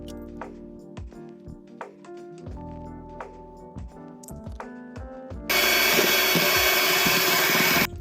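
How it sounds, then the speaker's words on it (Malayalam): A hand mixer, the same kind used for cake batter, whips a homemade hibiscus-flower leave-in hair conditioner. Light taps and clinks against the bowl come first, then a loud, steady motor whir runs for about two seconds and cuts off. "ഇത് നമ്മൾ കേക്കൊക്കെ മിക്സ് ചെയ്യുന്ന അതേ മിക്സർ തന്നെയാണ് നമ്മളിതിനകത്തോട്ട് നന്നായിട്ട് മിക്സ് ചെയ്യുക"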